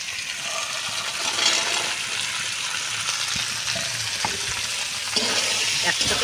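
Green peas, potatoes and meat sautéing together in a pan, a continuous close sizzle with scraping stirs and a splash as more goes in near the end.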